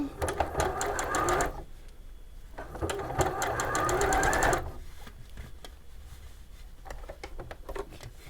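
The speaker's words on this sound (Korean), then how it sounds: "이렇게 털 있는 건 여러분들이 미싱 하실 때 조금씩 해주세요" A sewing machine stitches a fluffy, furry cushion guard in short bursts, a loud close rapid whirring that starts and stops, while a voice speaks between runs.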